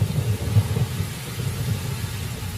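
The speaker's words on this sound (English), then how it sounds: "In Katavi, October brings the short rains." Steady rain with low rolling rumbles of thunder during the short rains in Katavi, Tanzania, a continuous wash of noise with deep swells, no voices.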